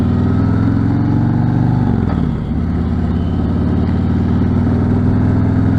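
A motorcycle rides through traffic, its mid-pitched engine droning steadily close by, with a brief dip and shift in pitch partway as the rider changes speed, then a steady run again.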